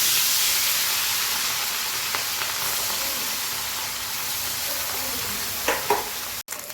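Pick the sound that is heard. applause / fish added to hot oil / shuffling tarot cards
fish added to hot oil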